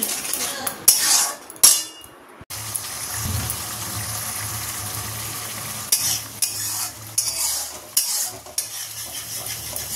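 Spatula stirring and scraping through a masala of spices with beaten yogurt in a pan while hilsa curry cooks, metal clinks and a steady sizzle running close and loud, with bursts of scraping throughout.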